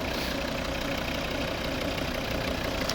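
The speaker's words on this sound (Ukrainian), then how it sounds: "Ось робота двигуна." A 2012 Volvo V40 2.0 D3 five-cylinder diesel engine with automatic transmission idles steadily, a continuous low rumble with a faint knocking texture, close by and unbroken throughout.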